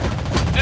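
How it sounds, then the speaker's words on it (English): Rapid anti-aircraft gunfire from a Soviet cruiser, the Admiral Makarov, in World of Warships Blitz, a short loud burst of fast thudding shots. "Anti-aircraft gun on full alert!"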